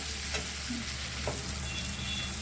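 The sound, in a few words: chopped capsicum frying and being stirred in a pan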